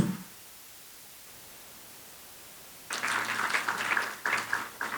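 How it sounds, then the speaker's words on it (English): A crowd at a health college launch event claps quietly: after a stretch of near silence, a soft patter of applause begins and continues to the end, thin and restrained, with no voices over it. "I thought you were going to clap louder than that."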